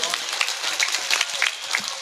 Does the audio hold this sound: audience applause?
yes